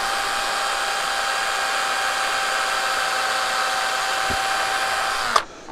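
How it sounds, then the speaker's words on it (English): An electric drill bores a pilot hole into oak wood for an eye hook, a steady high-pitched motor whine held for several seconds at close range before stopping abruptly. "I will be doing a proper pilot hole with the drill."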